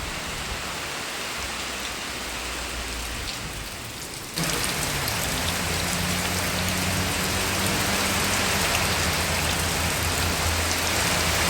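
Steady rain falling in San Miguel, El Salvador, a dense, continuous hiss of drops on surfaces that suddenly grows louder and heavier partway through and then holds, with no voices.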